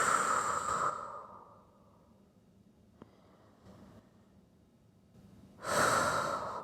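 Slow, deep breathing during a yoga child's pose: a long audible exhale at the start, a quiet stretch in between, then another strong breath near the end, close and alone.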